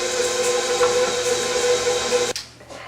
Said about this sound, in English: We've got the KitchenAid mixer here. We lift up the bowl and start the action.